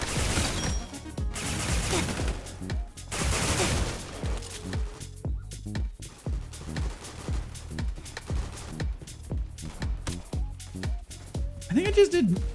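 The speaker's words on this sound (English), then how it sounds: "the shotgun hip fire" Shotgun hip fire in the video game Weird Gun Game comes as bursts of loud blasts, with dense volleys early and sparser shots later, mixed under a player talking throughout.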